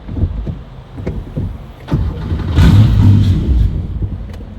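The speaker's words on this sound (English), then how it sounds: "It's just dying on me right there. Starting and then dying." A Porsche 911 swapped to a Subaru EZ30R engine turns over and catches with a loud rumbling rise, runs roughly for a couple of seconds, then fades as it stalls, heard up close with no talk.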